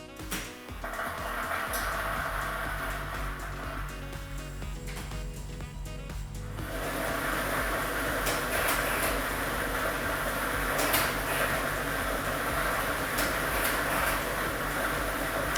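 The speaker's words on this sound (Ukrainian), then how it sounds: "І ми вмикаємо лототрон." Lottery drum machine (lototron) mixing a set of numbered balls during a televised Ukrainian lotto draw, a continuous whirring, rattling churn that starts softer and grows louder and denser after a few seconds, steady throughout.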